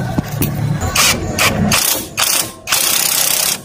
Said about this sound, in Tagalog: So impact wrench natin.